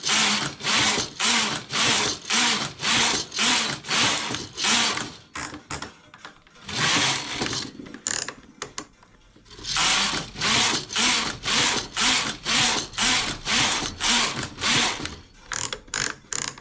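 Knitting machine being worked to raise its needles, the carriage rattling in fast, loud, regular ratcheting strokes, pausing briefly midway and then running again steadily.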